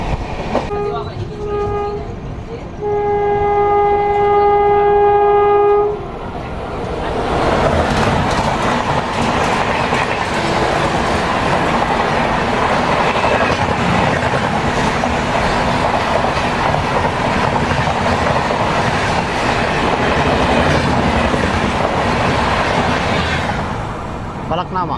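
An express train running on the Santragachi to Chennai Central route overtakes a crowded MEMU train. A long horn blast comes first, then a loud, steady rumble and clatter of passing carriages that lasts to the end.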